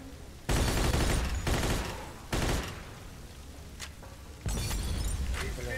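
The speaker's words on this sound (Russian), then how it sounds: "Так, а кто там стреляет этими самыми?" Gunfire in the game Mafia 2: heavy, dense volleys of shots break out in several loud bursts, mixed with crashing, shattering impacts and sustained noisy rattle between them.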